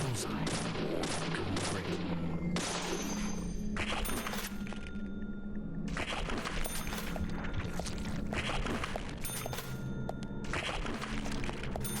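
Rapid bursts of video game gunfire from Deadly Premonition, loud and repeated in volleys with short pauses between them, sometimes layered with booming impacts.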